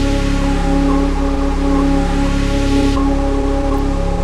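A pitched-down noise sample with no effects plays as a steady, dry wash of broadband noise with low tonal hum underneath, continuous, loud and unprocessed, with no voices.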